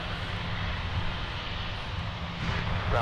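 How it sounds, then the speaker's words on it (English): Delta Airbus A220-300 jet exiting the runway after landing at Minneapolis–St. Paul airport, a steady broadband engine rumble and whine held at moderate distance without pause. "Delta coming in from Houston with the A220-300,"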